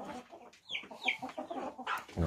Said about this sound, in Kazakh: Қалған тауықтарымыз міне. Алып келген тауықтар.